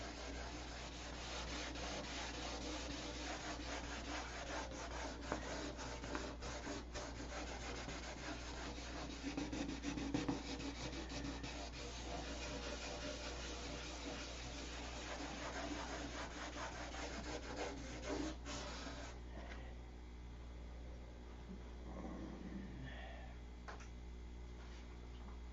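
Continuous sanding goes on at a steady pace for a long stretch, a quiet, even rubbing that eases off slightly toward the end.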